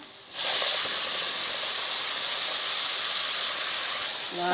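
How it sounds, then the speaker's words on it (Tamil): Tomatoes tipped into a hot pan while making homemade pasta burst into a loud, steady sizzle that starts abruptly and holds evenly throughout, with no talking. "இப்போ நம்ம வந்து தக்காளி ஊற்றிடலாம்"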